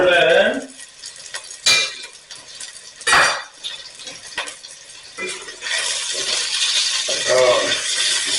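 Onions and garlic dropped into a chicken stew pot and stirred, with clanks and scrapes of a utensil against the pot followed by a rising sizzle, while someone talks intermittently.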